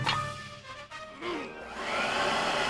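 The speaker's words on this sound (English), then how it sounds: "Is your vacuum as powerful as an 8-pound Oric XL?" Oric XL vacuum cleaner in a television advert, its motor whirring up into a loud steady rushing hum that builds and holds to the end, with no speech over it.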